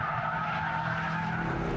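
Mitsubishi Evo 8 sliding tail-out through a corner, a loud continuous tyre squeal over engine roar, close and unbroken throughout.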